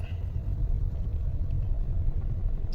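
A car engine idles with noticeable vibration, giving a continuous low, uneven rumble at moderate level, alone without speech.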